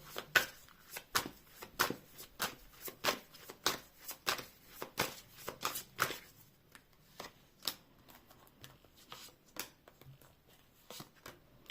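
Rapid riffling of tarot cards, repeated in quick bursts with short pauses between them, close and fairly soft with no talking.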